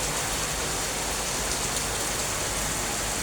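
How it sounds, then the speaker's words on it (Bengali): Heavy rain pours down in a steady, dense hiss of drops drumming on surfaces. The sound is loud and unbroken throughout, with no voices. "এত জোরে বৃষ্টি আসছে।"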